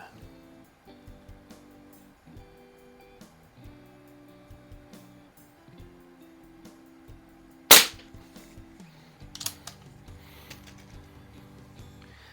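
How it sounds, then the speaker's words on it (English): A .22 air rifle fires a single sharp crack at a splatter target, followed by a fainter second shot, amid quiet mechanical clicks and someone talking. "I'm going to shoot a group at a splatter burst here first"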